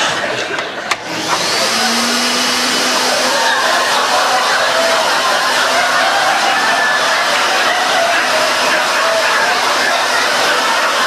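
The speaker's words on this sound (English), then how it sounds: "They're called vacuum slacks." Vacuum slacks, a suction garment meant to draw fat from the body, start up with a click and then run as a steady loud whirring hum with a faint whine that carries on unbroken.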